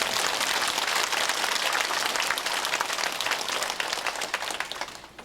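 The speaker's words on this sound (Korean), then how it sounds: "하나님께 감사의 영광의 박수 힘차게 하고 합시다." A church congregation claps loudly and steadily for several seconds in a sustained burst of applause, which thins slightly toward the end.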